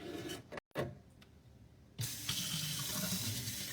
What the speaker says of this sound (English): going to fill up my cup with some water.